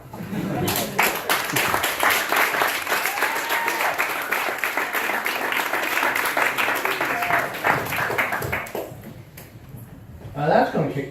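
Audience applause at a comedy show, a long steady wash of clapping and crowd noise that runs for most of ten seconds before dying down, with a voice coming in near the end.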